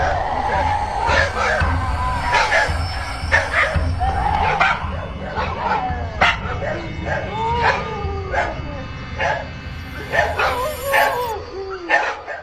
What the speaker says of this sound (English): Neighborhood dogs bark up a chorus